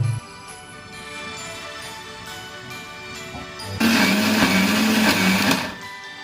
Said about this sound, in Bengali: মাখনগুলো দিয়ে এবার ফাইনাল একটা স্টার ইন দ্য ব্লেন্ডার